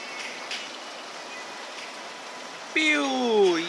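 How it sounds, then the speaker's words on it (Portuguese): Heavy rain in the online game Toram Online: a steady, soft hiss of falling rain at moderate volume, joined near the end by brief sliding, whistle-like tones. "Não sei se vocês estão ouvindo, mas tá chovendo forte."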